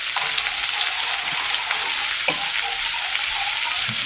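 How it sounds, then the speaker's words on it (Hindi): Garlic ginger paste fries in hot ghee for restaurant-style daal mash, with a steady, dense sizzle and a few light stirring scrapes, close and continuous throughout. "ऐसे तकरीबन 1 मिनट के लिए इसको हल्का सा हम फ्राई करेंगे।"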